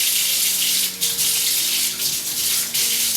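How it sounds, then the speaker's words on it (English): Steady tap water runs continuously into a sink while a silver piece is scrubbed with a brass brush and a little dish soap, a close, full hiss with slight splashing changes. "we're going to clean it under the water"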